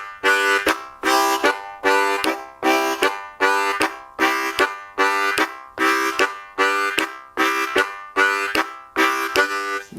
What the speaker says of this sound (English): is doing a train chug